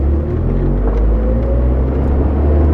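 A 1977 Fiat 124 Spider pulls away under a steady, close low engine rumble that holds evenly throughout, with no voices.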